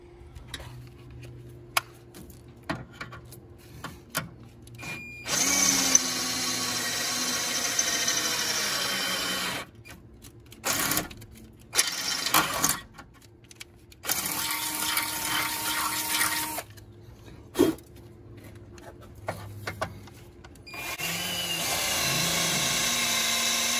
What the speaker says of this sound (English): So I'll finish drilling those out right now.